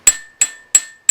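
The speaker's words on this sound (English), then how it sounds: "I'm going to use this small cross-peen hammer to form some little veins in the edge of the leaf" A small cross-peen hammer strikes steel at a forge, shaping veins into the edge of a leaf. Four crisp, evenly spaced blows ring out close and loud, each with a short metallic ring that fades before the next.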